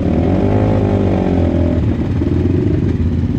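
An enduro motorcycle on a hard forest trail revs loudly and close, its engine rising in pitch and then settling into a rough, clattering mid-range drone as it struggles for grip.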